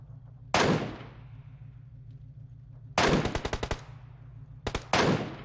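Loud, close bursts of MK14 rifle fire in PUBG Mobile: one sharp shot, a quick rapid string of several shots, then a couple more blasts, over a steady low game hum.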